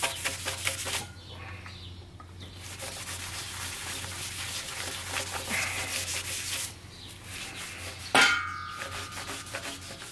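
Rag wiping bolt holes on a 1966 VW Double Cab with alcohol, producing repeated close rubbing and scrubbing strokes with short pauses and a sharp squeaky scrape near the end.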